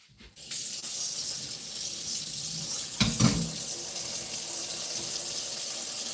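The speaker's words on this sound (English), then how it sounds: "Wash this real quick." Harvested peppers are washed under a tap. After a brief start, running water pours in a steady close hiss, with a short splashing burst midway.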